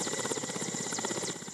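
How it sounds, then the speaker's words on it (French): Helicopter arriving to land at the aerodrome of Séguéla, a steady loud rotor chop with engine whine throughout, close and continuous, no voices. "l'hélicoptère la transportant atterrit à l'aérodrome de la capitale du Ourodougou"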